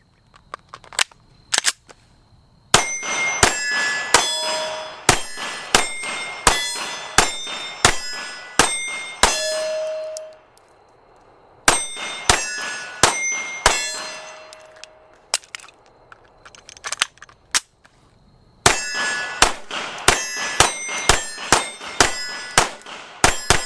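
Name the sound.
Steyr M9 pistol shots ringing steel targets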